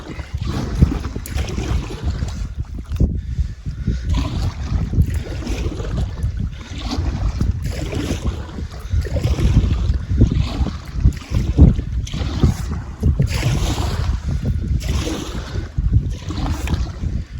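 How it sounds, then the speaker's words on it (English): Wind gusting across the microphone while paddling a canoe on a lake in Algonquin Park, loud rumbling buffets with faint water sounds beneath, continuous throughout. "Of course, the wind picks up."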